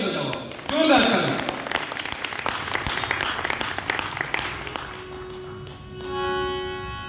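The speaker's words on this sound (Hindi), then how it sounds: "एक बार अपने लिए जोरदार ताली बजाओ, जोरदार ताली" An audience at a Hindi-language religious gathering claps loudly and steadily for several seconds, with a speaker's amplified voice over the dense patter.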